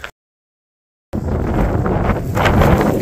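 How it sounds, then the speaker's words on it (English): Loud, close wind buffeting a microphone on a cattle ranch on a windy morning, a low rumbling roar that starts abruptly after a second of silence and continues unbroken, with no talk. "still a little windy this morning over here"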